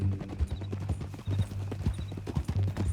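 Horse hooves clip-clop in a steady walking rhythm in Red Dead Redemption 2, close and clear with a low ambient hum underneath.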